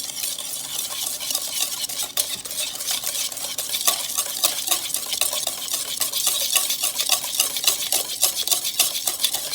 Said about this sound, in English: We're going to mix these together with our whisk.